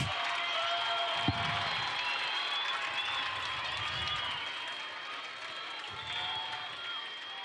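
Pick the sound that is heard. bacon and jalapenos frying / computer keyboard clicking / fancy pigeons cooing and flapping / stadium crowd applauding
stadium crowd applauding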